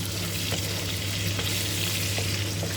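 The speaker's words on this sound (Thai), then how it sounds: "เราต้องคอยหมั่นผัดวนไปนะคะ" Pork belly stir-fries in plenty of hot oil for crispy chili-salt pork, a loud, dense, unbroken sizzle that holds steady close up throughout.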